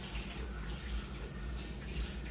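Water runs steadily from a tap while raw meat is washed, a continuous close-up gushing hiss with no break and no talking.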